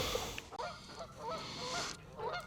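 A flock of geese honks repeatedly from a distance on a rural property with ponds, with overlapping nasal calls over a noisy outdoor background as dogs scare them off.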